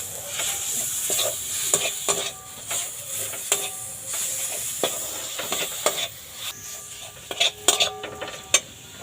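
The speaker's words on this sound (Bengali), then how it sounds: "এই ধনেপাতাটা এর সঙ্গে মিশিয়ে নেব ভালো করে।" Chopped coriander leaves being mixed into a homemade coriander-leaf pickle. A spoon scrapes and clicks against the bowl in irregular strokes over a soft background hiss, with a few sharper clinks toward the end.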